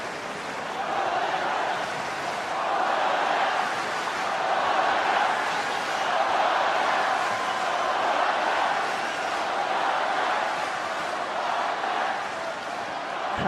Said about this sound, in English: Crowd certainly engaged here on Rod Laver Arena now.